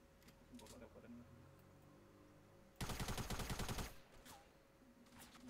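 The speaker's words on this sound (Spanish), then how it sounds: "Si puedes localizar dónde vienen los disparos, mejor." Burst of rapid automatic gunfire in the Fortnite video game, loud and lasting about a second, with quieter game sounds and players talking before and after.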